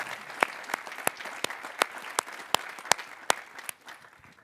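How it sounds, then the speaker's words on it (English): A summit audience gives sparse, quiet applause: a soft bed of light clapping with about a dozen distinct, sharper claps standing out in a loose rhythm, fading toward the end. "Big hand of applause"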